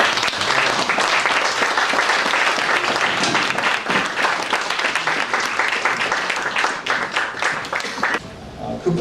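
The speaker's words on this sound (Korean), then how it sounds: "김윤상 교수님 나오실 때 힘찬 박수로" An audience at a book talk on the economics of social problems claps vigorously as a professor walks on stage, a thick roar of hands that runs strong for about eight seconds before cutting off sharply.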